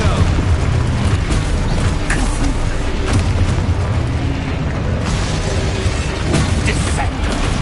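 Spell explosions from the Hogwarts Legacy video game, a loud dense barrage of booms, bursts and pops with mechanical clatter layered throughout, continuous and close with no pauses.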